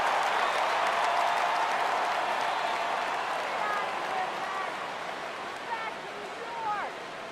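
Stadium crowd noise from the MLB 14 The Show baseball video game, a broad steady roar of tens of thousands cheering that swells slightly and stays loud throughout, with no speech over it.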